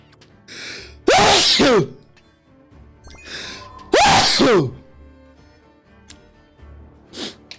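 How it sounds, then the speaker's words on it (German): A single person sneezes loudly twice, close up, with a short gasping intake before each burst, then a faint third breath near the end; no talk. "Ich muss niesen."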